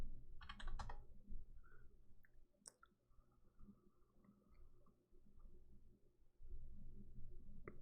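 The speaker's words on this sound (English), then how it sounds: "I could just type in here, huh?" A computer keyboard is typed on in a short burst of faint clicks near the start, followed by quiet room tone with a few scattered taps.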